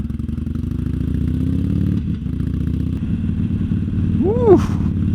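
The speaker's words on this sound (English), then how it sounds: "I do feel like the bike is a bit smoother, especially on idle or like in low gears" A Harley-Davidson Sportster motorcycle with freshly changed spark plugs idles with a loud, low, uneven rumble up close, then revs rising and pulls away near the end.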